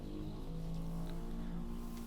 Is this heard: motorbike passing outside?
yes